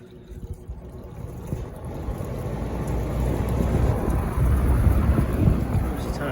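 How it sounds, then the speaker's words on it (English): A Montgomery Ward box fan, an old window fan, runs on its high setting, giving a steady, loud, low rushing roar of moving air that builds slightly and holds throughout with no talking. "Here it is on high."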